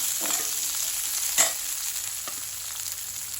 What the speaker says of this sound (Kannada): ಈರುಳ್ಳಿ ಸ್ವಲ್ಪ ಹಸಿ ವಾಸನೆ ಹೋಗೋ ತನಕ ಇದನ್ನು ಫ್ರೈ ಮಾಡ್ಕೊಳ್ಬೇಕು